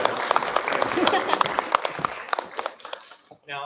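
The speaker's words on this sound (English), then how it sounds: "So let's have another round of applause for the Student Led Masterclass." Audience applause after a student-led harp masterclass at MSU, steady clapping across the room that fades near the end, followed by a brief tonal sound.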